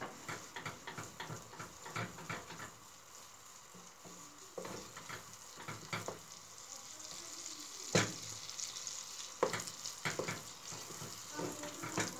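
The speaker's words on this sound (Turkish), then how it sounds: "Salça kokusu çıkana kadar arkadaşlar karıştırıyoruz." Pepper paste frying in a pot for lentil soup, a soft steady sizzle broken by repeated close spoon stirs and scrapes against the pot.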